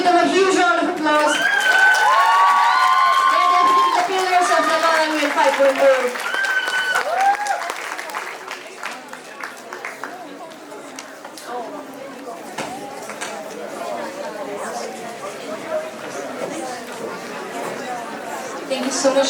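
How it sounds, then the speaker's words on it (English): A crowd at a Model UN closing ceremony claps and cheers loudly with whoops, and the applause fades into chatter while someone speaks over a microphone. "Everyone, please give them a huge round of applause."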